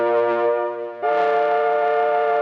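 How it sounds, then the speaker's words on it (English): A Cherry Audio Octave Cat software synthesizer holds a sustained, harmonically rich note that jumps into a brighter, buzzier distorted tone partway through, loud and steady with no talking. "So we've got distortion."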